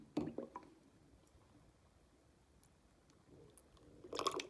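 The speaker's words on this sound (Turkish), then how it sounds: "Bir su bardağının içine süngerimi koyuyorum. Ve misal sudan ekliyorum." Micellar cleansing water is poured into a drinking glass holding a makeup foundation sponge, giving faint wet squishing and dripping sounds at the start and again near the end, with quiet room tone in between.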